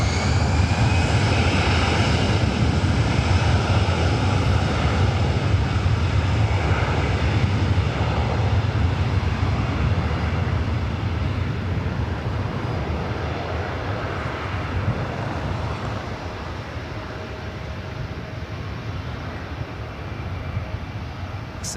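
A 25-year-old Delta Airbus A320 roars down the runway on takeoff at LAX, its loud, broadband engine thunder strongest at first and gradually easing as it climbs away.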